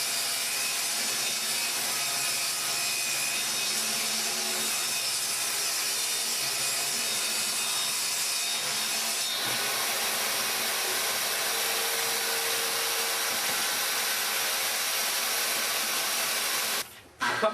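A saw makes straight cuts through a wood panel for a kitchen cabinet top and bottom. The steady, close, continuous whine runs without a break for most of the stretch, then stops abruptly near the end.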